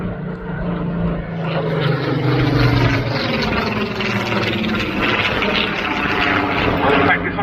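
A Spitfire and a bomber make a pass at the Duxford air show, a loud sustained propeller-engine roar that swells and holds throughout as the aircraft go by.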